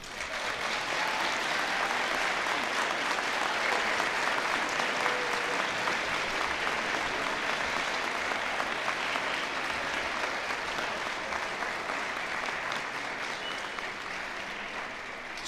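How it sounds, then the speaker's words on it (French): Graduation ceremony audience at a university science faculty applauding parents and friends, a long, dense, even wall of clapping from a large crowd held at steady loudness throughout. "je vous invite à les applaudir chaleureusement"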